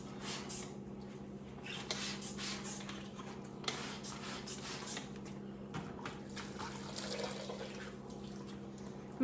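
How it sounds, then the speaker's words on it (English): Water dripping and trickling off a wet wooden furniture piece after spraying, soft irregular patters and splashes, close and quiet against a faint steady background hum. "And I like to let the water drip off."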